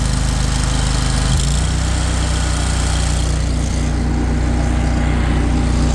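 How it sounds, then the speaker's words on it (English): A 61-inch SCAG Turf Tiger commercial-grade zero-turn riding mower engine runs loud and close, holding a steady heavy drone with a slight rise in pitch as it revs smoothly. "I'll rev it up for you. No bad vibrations or anything like that on the motor. Revs right up, nice and smooth."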